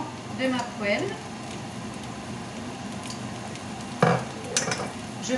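Spinach fries in olive oil in a pan with a soft, continuous sizzle, while a voice talks briefly at the start and a spoon scrapes and taps against the pan a few times.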